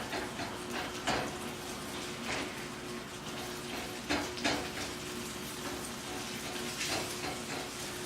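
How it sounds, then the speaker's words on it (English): Eggs frying in a hot pan during a Sunday brunch cook, a steady broadband sizzle running throughout with a few brief louder bursts from stirring or spatula contact, no talking. "And we get the eggs in the pan."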